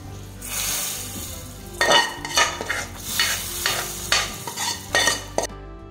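Cooked dal is stirred into sambar in a pot, with a spoon scraping and sloshing in a series of irregular strokes, fairly close, and no one speaking.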